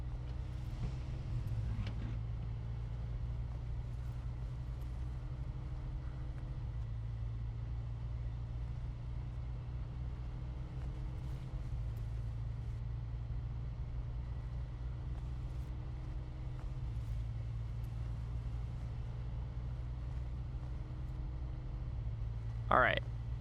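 A truck engine in the SnowRunner video game runs steadily in low gear through mud, a constant low rumble throughout with someone talking over it.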